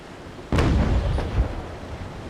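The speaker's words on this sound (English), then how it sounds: "I'll just try to fire in his stern as he gets into my cannon range" A single heavy ship cannon blast in Naval Action booms out, close and loud with deep low rumble, followed by a rolling tail and a second fainter thud as it fades.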